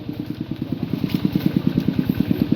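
A farm tractor engine chugs in a fast, even thumping rhythm, fairly close and steady throughout, with no voices over it.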